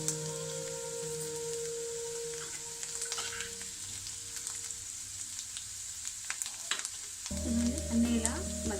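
Nalleru stalks fry with garlic in a pan, making a steady hissing sizzle with scattered clinks and stirring, while sustained tones hum underneath.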